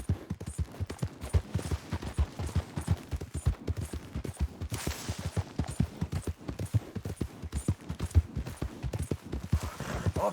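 Horses' hooves clip-clop steadily in Red Dead Redemption 2, a dense, continuous run of close, sharp hoofbeats from several horses over a quiet background, with no talk.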